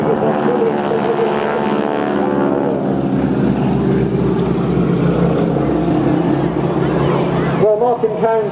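A formation of propeller aircraft at a seaside air show in Clacton-on-Sea roars past close by, a loud continuous droning engine sound with shifting pitch, joined near the end by a swelling surge, while an announcer's voice talks over it.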